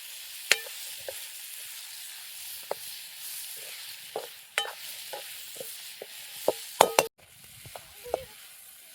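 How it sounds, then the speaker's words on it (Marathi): Fresh cowpea vegetable is sautéed in a pan with a soft, steady sizzle. Sharp, intermittent scrapes and clacks of stirring sound close by, with no talking. "1-2च मिनिटं आपण हे चांगलं असं परतून घेऊयात."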